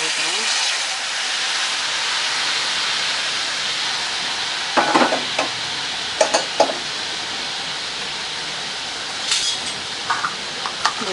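Liquid white batter poured into a hot kadai, giving a steady hiss and sizzle with a few clinks of utensils against the pan.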